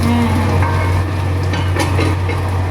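Potatoes fry in a pan, a steady loud sizzle with faint crackles over a constant low hum, no voices present.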